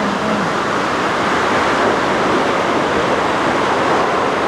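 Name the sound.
Kothapalli waterfall flowing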